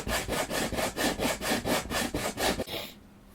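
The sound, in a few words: sanding wooden X bracing on a guitar soundboard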